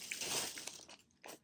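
Close, soft chewing on tough, thin peach gummy sweets, a few moist crunching bites with short pauses and no talking.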